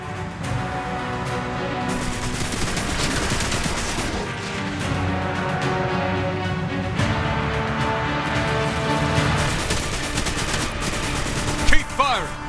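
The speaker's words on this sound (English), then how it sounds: "Keep firing! Don't give them a chance to attack!" Sustained gunfire during a firefight against Fallen enemies in the shooter game Destiny Rising, dense and continuous for the whole stretch, with layered shots, bursts and effects and a brief sharper spike near the end.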